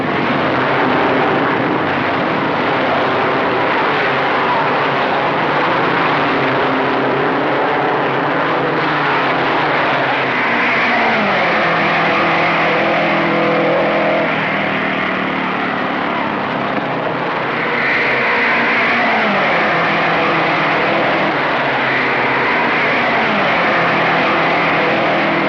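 Vintage race cars roar off at the 1956 Indy 500 restart, a dense continuous engine drone with rising and falling pitch sweeps as the pack accelerates past, loud and steady throughout.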